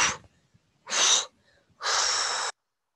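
Slow, deliberate breaths during a seated chair yoga session: one short exhale, then a longer one, then a long, steady breath out, each close and audible with quiet gaps between and no talking.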